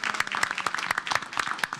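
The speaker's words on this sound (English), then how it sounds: "Let's give them a round of applause." Brief burst of audience applause at a city council meeting, a small group clapping in a quick, uneven patter heard up close.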